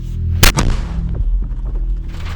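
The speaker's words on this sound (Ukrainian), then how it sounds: "Здійснили чотири постріла." A mortar crew from the Forpost brigade fires on the eastern front: one loud, sharp blast and a quick second report close behind it, then a long, low rumbling echo.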